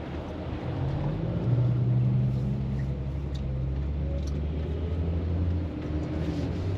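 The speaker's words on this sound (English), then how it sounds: "here comes the semi going so fast" A semi truck speeds past on a narrow roadside near a van parked for overnight camping, a loud sustained low engine rumble and roar that swells and holds for several seconds before easing.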